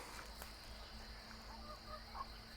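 Chickens squabbling while settling their pecking order, faint distant honking squawks and clucks over a steady background hum, brief and low in level with no talking.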